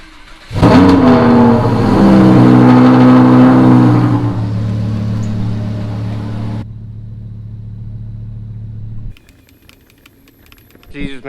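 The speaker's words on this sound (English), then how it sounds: "I'm gonna pull the Huracan out the way" A Lamborghini Huracan starts up and idles loudly and close as it is moved, with a deep humming engine drone and a few revs that settle to a lower idle before the engine cuts off, followed by faint clinks.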